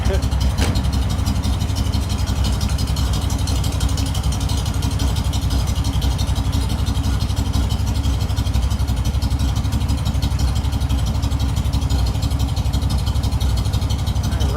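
A 1986 Pontiac Firebird built as a KITT Knight Rider tribute car, its engine cranking over and then running steadily at a close, loud idle for the whole stretch, with voices talking over it.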